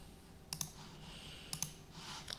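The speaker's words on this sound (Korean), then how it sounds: "더블 클릭." Computer mouse clicking during SketchUp work: two quick double-clicks a second apart, crisp and close in a quiet room, with a softer click at the end.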